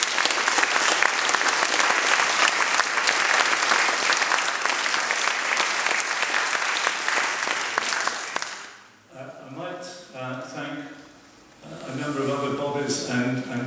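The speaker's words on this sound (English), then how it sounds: "another clap would not go amiss" Sustained audience applause after a climate change talk, a dense even patter that carries for about eight seconds before fading out, after which people talk.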